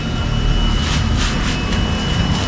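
An older Nissan Sentra engine runs rough with a vacuum leak, giving a steady, close mechanical drone with a faint, uneven pulsing hiss on top that swells and fades every few moments.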